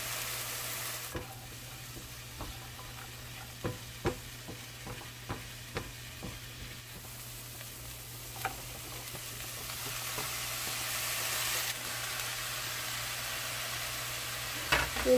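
Carrots stir-frying in a pan in a small home kitchen: a soft steady sizzle with light scraping stirs tapping at irregular intervals, close and fairly quiet.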